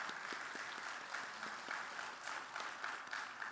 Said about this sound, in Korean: 한번 박수해 주시기 바랍니다